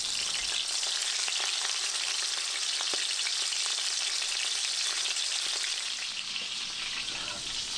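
Duck breasts pan-sear in hot oil, giving a loud, steady, close sizzle with scattered crackles and pops throughout and no talking.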